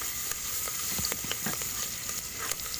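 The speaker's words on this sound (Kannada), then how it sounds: "ಕಾಯಿ ಮುಂಚಿನ ಚೂರು ಫ್ರೈ ಆಗಿ" Green chillies sizzle in hot oil in a pan for bread pulav, a steady close crackle with scattered pops and light stirring scrapes, no voices.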